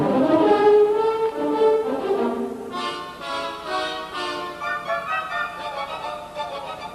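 Orchestral passage from a sonata-form symphony movement, a four-note motif passed from brass to woodwinds then faster to strings, full and resonant, building busier toward the end, with no talking over it.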